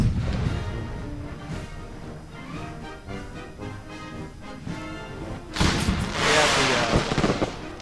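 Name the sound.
cannon artillery fire in video game Empire: Total War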